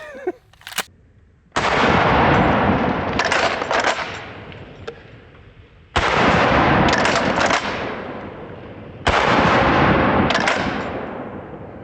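A trench shotgun fires outdoors at helium balloons: three loud, booming blasts about four seconds apart, each ringing out with a long fading echo, preceded by a faint metallic click.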